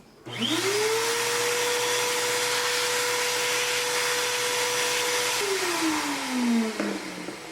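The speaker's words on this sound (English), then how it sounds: "then we're going to use the vacuum again." A vacuum cleaner runs on a dirty, clogged Alienware X51 R2 computer fan, starting up with a rising whine, then holding a loud, steady drone and winding down near the end with no talk.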